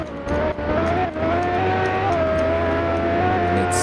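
The engine of a tuned Porsche 918 Spyder roars in a racing video game on a track challenge, heard from the third-person view as a loud, steady high-revving drone with slight pitch shifts.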